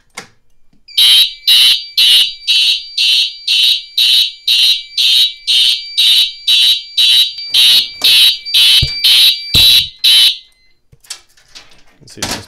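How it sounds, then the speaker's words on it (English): A Simplex fire alarm sounds after a dual-action T-bar pull station is activated, giving about eighteen loud, evenly spaced piercing horn blasts at close range before it cuts off and leaves faint handling noise. "we'll re-alarm this system with the dual action T-bar"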